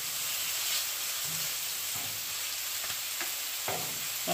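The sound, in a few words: chicken quesadilla sizzling on Pit Boss griddle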